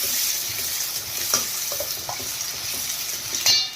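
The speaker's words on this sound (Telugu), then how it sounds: "ఒక 1/2 కప్ పచ్చి బఠానీ, ఒక 1 మినిట్ వేగాలి" Green peas fry in a pan with a steady, fairly loud sizzle, and a spoon scrapes and stirs through them several times.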